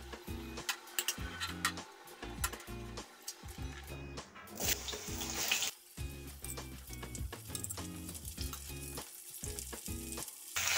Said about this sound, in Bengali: হ্যাঁ, আমি এখন কড়াইয়ে তেল দিয়ে দিয়েছি। এখন এই মূলোটাকে অল্প একটু ভেজে নেব